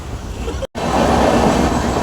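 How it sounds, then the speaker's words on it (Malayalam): A train rumbles along loudly and steadily, with a brief cut of silence near the start before the heavy running noise resumes. "ഇപ്പോൾ ട്രെയിനിന്റെ ശബ്ദമായിട്ട് ഇങ്ങനെ കേൾക്കാൻ പറ്റുന്നുണ്ടോന്നും അറിയത്തില്ല"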